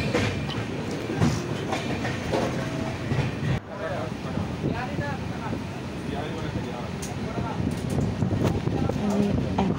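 A moving train between Jharkhand and Howrah, with a steady, loud rumble and clickety-clack of the rail cars running throughout and voices talking over it.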